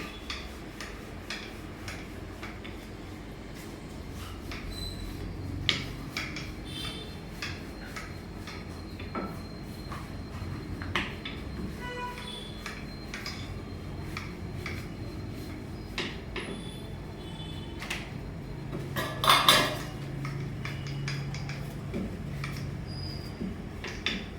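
Jowar flour and methi dough being rolled out flat like a chapati, a steady run of soft ticking taps and light scrapes from the rolling pin repeating close by for a long stretch, with no talking.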